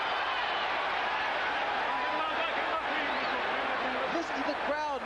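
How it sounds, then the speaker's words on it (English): A boxing arena crowd at a heavyweight match roars in a steady, dense wash that stays loud throughout, with a commentator talking over the noise. "Listen to the crowd now, Barry."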